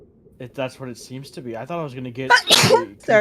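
A single sharp sneeze bursts out mid-conversation, close and loud, between stretches of casual talk at a tabletop roleplaying game session.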